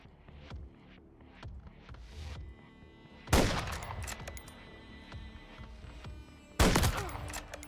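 Sniper rifle fire in Call of Duty: Modern Warfare 3, two loud sharp cracks a few seconds apart ringing out over a bed of distant battlefield gunfire and rumble.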